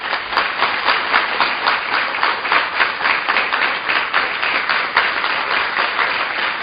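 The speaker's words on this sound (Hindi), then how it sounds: "तो इन बहनों के लिए सभी एक बार ताली बजाएंगे।" An audience applauds in a hall during a spiritual class, steady dense clapping from many hands throughout, loud and sustained with no pause.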